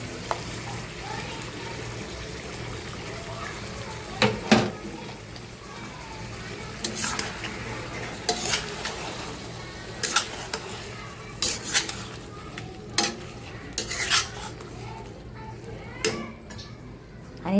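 A spoon stirs ground masala paste into chicken liver in a cooking pan, giving intermittent scraping clinks and knocks against the metal over a low, steady background.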